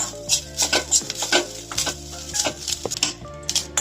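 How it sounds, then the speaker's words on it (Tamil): Grated coconut roasting in ghee in a pan, stirred briskly with a metal spoon: quick rhythmic scrapes and clinks over a soft sizzle, close and steady, no talking. "நல்லா நெய்யில் வறுத்தாச்சுங்க தேங்காயெல்லாம்"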